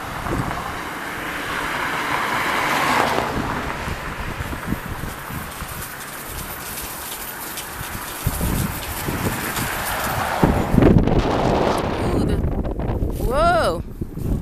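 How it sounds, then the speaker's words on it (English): Strong gusts of wind buffet the microphone outdoors, a loud rumbling roar rising and falling with someone talking over it and a brief high whine near the end. "Whoa, a lot of wind."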